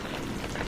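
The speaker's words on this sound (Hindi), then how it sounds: "फिर सिर्फ बारिश और हवा का शोर रह गया" Rain and wind on a stormy night, a dense, steady hiss of falling rain with a breezy rush underneath, moderately faint and unbroken, with no voices.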